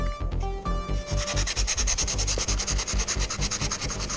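Steady, close rubbing rasp of 80-grit sandpaper worked back and forth across the bodywork of a 1965 Impala, with rhythmic strokes continuing throughout and no talking.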